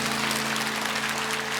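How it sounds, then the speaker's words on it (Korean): A church congregation in Korea applauds together, making a dense, even wash of many hands clapping at once that stays loud and steady throughout. "우리 말씀 전해주신 최용준 목사님께도 감사의 박수하겠습니다"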